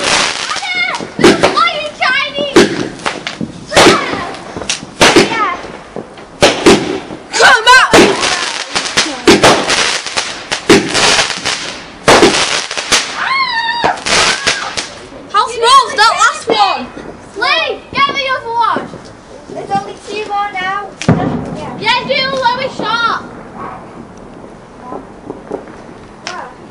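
Bonfire Night fireworks and rockets go off outdoors in sharp, repeated bangs and crackles throughout, mixed with excited children shouting and talking over them.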